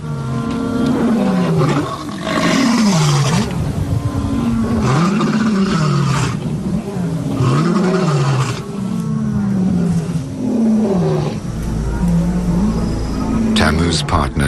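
Wild lions roaring in the evening: a long series of loud, deep, rhythmic grunting roars that swell and fade in repeated bouts, heard up close over steady outdoor ambience with a voice talking over them.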